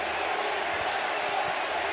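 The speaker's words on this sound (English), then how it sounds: "It feels less like a baseball crowd and more like a UFC crowd." A fired-up crowd at a New York Yankees vs Mets baseball game produces a steady, dense roar of voices and cheering, continuous and fairly loud throughout, with no distinct single voice standing out.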